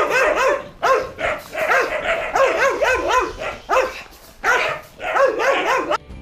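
Several dogs bark repeatedly at hikers walking past a cluster of houses on the Lycian Way trail in Turkey, loud and close, with overlapping barks and short yips in rapid bursts throughout.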